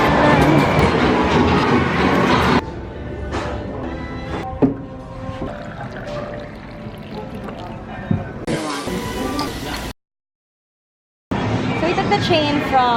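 Rumbling train ride through Osaka, with steady rail noise and clatter, voices talking over it, a brief hiss, then a short cut to silence before the ride noise returns.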